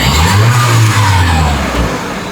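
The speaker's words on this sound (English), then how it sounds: "the car is starting as though there was no fault" A 2019 Forthing G5T Turbo car engine starts and revs loudly up close, a steady mid-pitched roar that rises and then eases slightly, with no other sounds over it.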